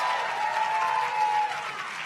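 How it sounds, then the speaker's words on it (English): A crowd claps steadily and loudly for Nancy Pelosi, a dense wash of applause that holds through the whole moment. "give our Speaker Emerita, Nancy Pelosi, one more round of applause"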